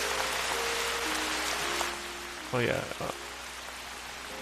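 Steady rain ambience from the farming video game DeFi Land hisses in the background, with someone briefly speaking over it partway through.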